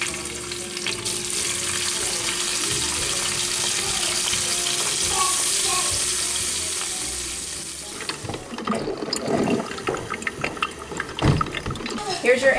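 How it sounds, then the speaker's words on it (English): Bacon frying in a pan, a loud continuous crackling sizzle with bright spitting fat, followed by clattering and stirring sounds as the cooking is handled. "Bacon, I don't know why, but bacon, smell that stuff, hear it. Just hear it cooking"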